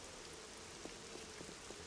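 Steady rain falls in the survival game 7 Days to Die, a soft continuous hiss with a few faint drip-like taps scattered through it, quiet and even throughout.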